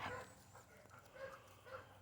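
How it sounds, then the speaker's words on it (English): A dog barks a few times in a front yard, faint and distant over low background noise, with no voices. "My dog is barking."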